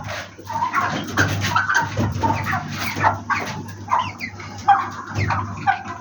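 Broiler chickens cluck and murmur at a feeder, with a string of close, repeated soft clucks and calls of varying loudness over a low background hum.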